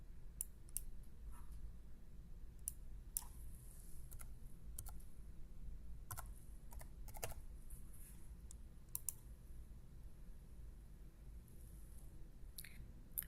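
Computer mouse clicks and keyboard typing come from someone working in software on a computer. The clicks are sharp and scattered, in quick clusters and single taps, faint over a low steady hum, with no talking.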